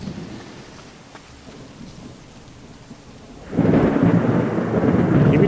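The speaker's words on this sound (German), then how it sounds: "Ist ein bisschen nass vielleicht, ne? Regnet." A rainstorm with thunder in the horror game PineView Drive: quiet ambience, then a loud rumble of thunder and heavy rain surging in and continuing steadily to the end, with no voices.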